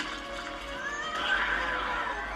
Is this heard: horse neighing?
yes